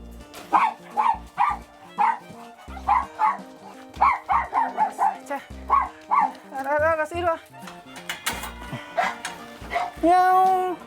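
Several dogs at an animal shelter, some sick and weak, bark and yip in quick bursts, with higher whining and whimpering mixed in, close and fairly loud throughout.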